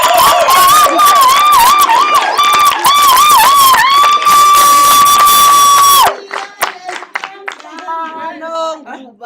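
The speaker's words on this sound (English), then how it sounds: "Can we just have a round of applause for this vibrant?" A crowd at a community dialogue erupts with clapping, cheering and high melodic shouting, loud and dense for about six seconds before cutting off abruptly to thinner, scattered voices.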